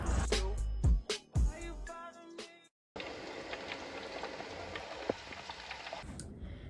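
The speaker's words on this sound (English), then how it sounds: "it's cold outside and it's pouring, it's raining, it's pouring" Heavy rain pouring outside on a cold day, a dense steady hiss of drops on surfaces with a few louder drips, arriving after a short burst of clattering indoor sounds and a brief silence.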